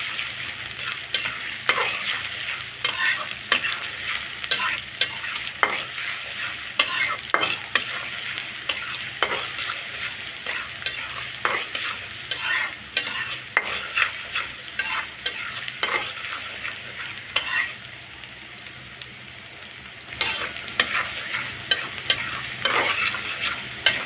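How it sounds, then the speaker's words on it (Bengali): Sliced green chilies frying lightly in oil in a pan, a steady close sizzle broken by frequent sharp scraping strokes of a spatula stirring, with no speech. "কাঁচামরিচ ফালি, এখন এটা আমি একটু হালকা ভেজে নেব।"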